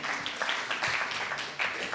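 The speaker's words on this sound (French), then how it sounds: "On peut applaudir Jean-Marc, oui," Faint applause from a small audience, a steady patter of clapping that swells and dips slightly.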